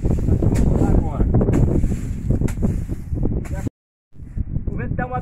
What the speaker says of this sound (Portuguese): O vento tá uma beleza.